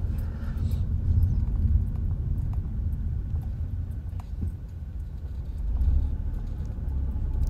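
A car travels a shady zigzag road near Cala Ratjada on Mallorca, giving a low, continuous rumble of engine and tyres that swells and eases through the bends, with faint ticking taps over it and no speech.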